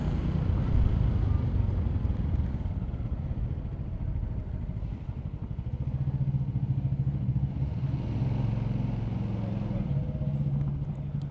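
Motorbike riding through Dublin city streets late at night, a steady engine drone with some rumble and clatter, rising to a louder sustained pitch partway through, with faint traffic around.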